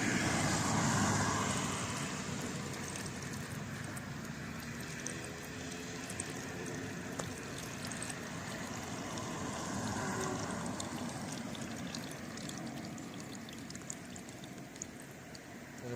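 Water drains off soaked carp-fishing pellets treated with a yellow pineapple booster beside the Malá Domaša reservoir, a faint, steady outdoor pouring and trickling hiss that starts slightly stronger and then settles.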